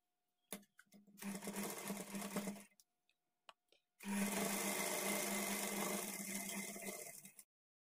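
A sewing machine stitches a blouse seam in two bursts, a short run followed by a longer steady one after a brief pause, loud and close with no talking.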